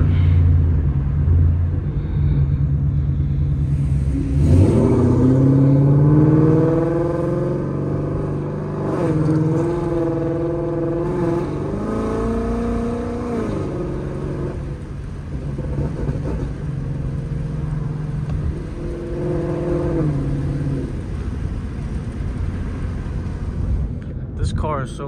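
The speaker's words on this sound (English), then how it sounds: "This car is so loud sometimes that it hurts my ears." A Ford Mustang GT's deep, loud engine rumbles and revs close by while driving late at night, the exhaust droning steadily with a few surges, no talk over it.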